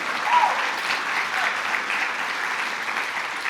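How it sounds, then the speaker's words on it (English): An audience at a library author visit breaks into sustained applause, a dense, even wash of many hands clapping together, close and lively, with no one speaking over it. "I've been waiting for that applause."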